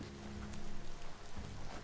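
Steady rain falls in the video game Biomutant, a continuous wash of drops close by and fairly loud, with a faint low rumble underneath and no voices.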